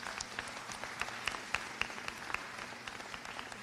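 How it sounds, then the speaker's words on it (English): An audience at a community program launch applauds, a fairly faint, steady patter of clapping with a few distinct louder claps, heard from a distance. "clap that up"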